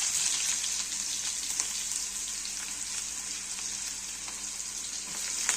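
Chopped onion frying in a pan with mustard seeds, cumin and curry leaves gives a steady, loud, bright sizzle that holds evenly throughout, with a few faint stirring scrapes and no voices.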